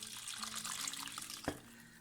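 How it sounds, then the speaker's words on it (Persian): Roughly a liter of water pours steadily into a cooking pot of sautéed tomatoes for a traditional chekdermeh meat dish, a continuous splashing rush that lasts about a second and a half and ends in a brief sharper splash. "حدود 1 لیتر آب رو داخل قابلمه اضافه میکنیم"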